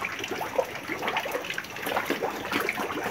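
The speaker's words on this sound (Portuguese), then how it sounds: "Olha a água ali vazando pra fora. Vamos ali fechar a torneirinha." Water runs and splashes out of a leaking tap at a rural homestead, a faint, steady trickle with small irregular splashes and no talking.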